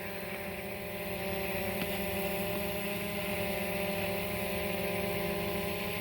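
Fimi X8 SE drone hovering in the air, a steady whining buzz of spinning propellers with tonal motor harmonics, continuous and even in level throughout.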